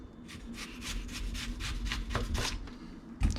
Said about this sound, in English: Basically we're just going to cut down pretty thin slices.